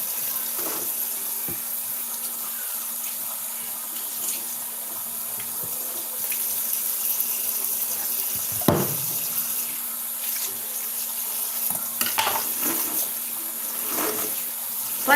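Cold water running from a tap, a steady soft rushing stream with occasional splashes and clatters as items are handled, no talking.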